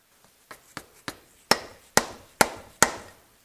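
A dead blow hammer whacks a pin on a Sidney lathe part during a restoration: eight sharp, separate strikes, the first few light and the last four heavy and loud, at a steady rhythm in a quiet shop.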